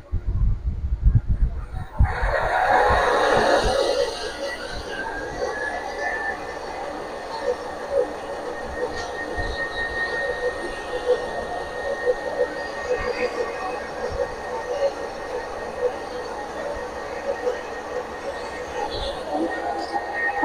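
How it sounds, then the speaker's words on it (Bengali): Electric motor fitted with a 30-inch pulley running steadily after a brief louder start, a sustained hum with a faint whine holding level throughout, close and continuous. "অলরেডি আমার মেশিন চলতেছে"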